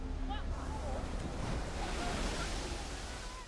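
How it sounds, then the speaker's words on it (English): Tsunami waves pound the coast of Sumatra in a steady, loud, broadband roar of churning surf and rushing water that barely lets up and fades slightly at the end. "The coast is pounded by a series of killer waves, each bigger than the last."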